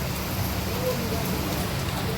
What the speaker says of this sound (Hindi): बाहर बहुत ज़्यादा बारिश आ रही है